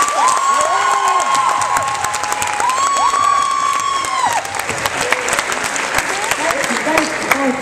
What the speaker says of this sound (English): One more round of applause for Bryson